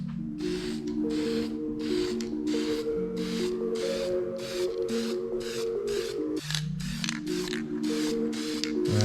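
Spray paint is applied to Mercedes 190E interior parts inside an enclosed garage, in a quick series of short, sharp hissing bursts in a steady rhythm over a constant tonal hum.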